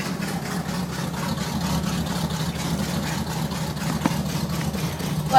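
A 1968 Chevrolet Impala engine idles steadily, a low, even rumble with a slightly rough mechanical texture, close and sustained, with no talk over it.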